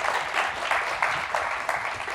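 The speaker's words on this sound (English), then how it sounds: "please give a round of applause for our amazing panelists" An audience claps for a panel of public art speakers, a steady round of applause from a room of people, moderately loud and continuous across the short stretch.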